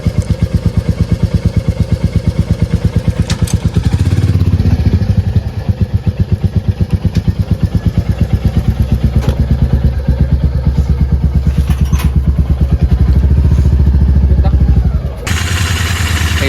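A Royal Enfield Continental GT650 twin-cylinder engine runs at cold start, holding a steady, loud, rhythmic idle thump with a brief rev swell near the middle, alone with no talk.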